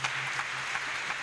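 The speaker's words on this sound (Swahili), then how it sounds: "Pigeni mzee makofi." A church congregation claps in a brief, even wash of applause, heard faintly and slightly distant, with no voices over it.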